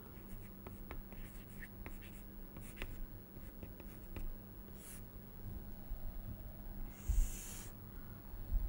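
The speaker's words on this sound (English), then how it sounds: "I will write this with the red chalk." Red chalk scratches and taps against a blackboard in short, irregular strokes, faint and close, with a quiet room hum beneath.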